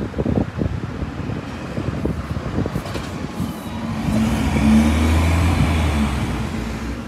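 A bus engine idling and pulling in at Lincoln Central bus station, a steady close diesel rumble that swells louder midway, with low droning and wind buffeting on the microphone and no talk.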